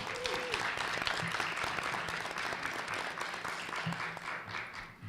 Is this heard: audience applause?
yes